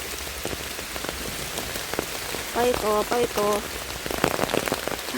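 Steady rain patters on the ground and plants in a field during mushroom picking, a continuous wash of drops while a voice speaks briefly and some clattering sounds come through.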